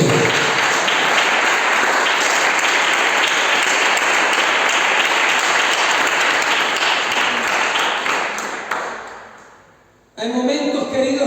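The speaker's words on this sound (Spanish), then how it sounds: "Fuerte el aplauso al que vive." A church congregation applauds loudly and continuously, dense clapping that holds steady for about eight seconds before fading out, after which a voice speaks.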